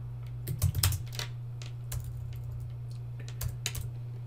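Short bursts of typing on a computer keyboard, a few clustered key clicks spaced apart over a steady low electrical hum, quiet and close.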